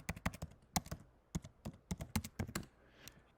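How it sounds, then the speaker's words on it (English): Typing on a computer keyboard, a quick run of crisp, close key clicks in an irregular rhythm, with a short pause near the end before a final few taps. "I click here and I can type in multiple tickers at the time."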